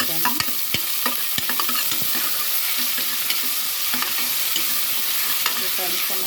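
Onions frying with ginger garlic paste in a pan, a steady sizzle with repeated scraping and tapping as a spoon stirs them.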